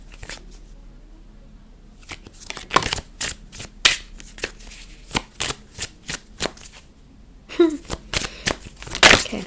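Message cards being shuffled by hand, a series of crisp riffling bursts in irregular rhythm, close and fairly loud, with a quiet room behind.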